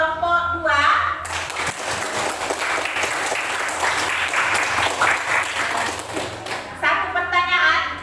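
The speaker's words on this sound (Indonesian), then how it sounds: "Kita kasih aplaus dulu untuk diskusi dari kelompok 2." Classroom applause after a group discussion, a dense burst of clapping from many students lasting several seconds, with a teacher's voice speaking briefly before and after.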